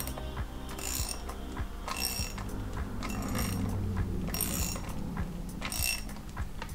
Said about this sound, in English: Then go ahead, tighten that bolt down the rest of the way.